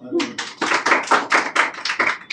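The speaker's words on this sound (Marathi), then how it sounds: "आता सगळ्यांनी टाळ्या वाजवला ना" Students in a classroom clap their hands together in a quick, steady run of sharp claps lasting a couple of seconds.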